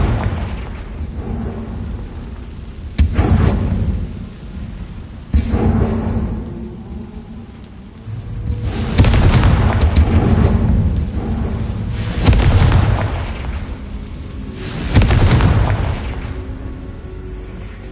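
Booming magical explosion spell in a wizard video game, several heavy low blasts a few seconds apart, each swelling then fading into a rumbling tail, loud and close with no other sounds.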